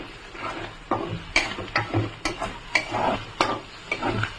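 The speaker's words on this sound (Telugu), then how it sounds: "స్ప్రెడ్ అయిన ఎగ్గినంత ఇలా కలుపుకోవాలి శుభ్రంగా" Beaten eggs fry in a kadai while a utensil stirs them, giving irregular scraping clicks and knocks against the pan over a soft sizzle, close to the microphone.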